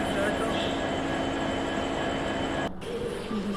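A steady rumble of a train at a station, a continuous broad roar with a faint whine, briefly dipping near the end.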